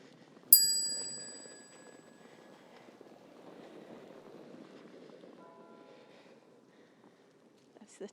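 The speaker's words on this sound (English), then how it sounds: "the church bells ringing" A church bell strikes once loudly in Iisalmi, Finland, during a snowstorm, its ringing tone slowly decaying over muffled outdoor street ambience of fresh snow, with a fainter chime later.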